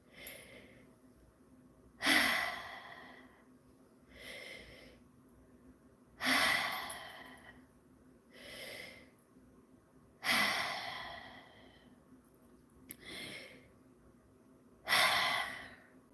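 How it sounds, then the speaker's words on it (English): Slow deep breathing from a guided acupressure session for pain and stress, several long breaths repeated about every two seconds, with quieter exhales in between, close and clear, no talking. "We got to do some deep breathing. So everybody follow along. Let's do a little bit of deep breathing real quick."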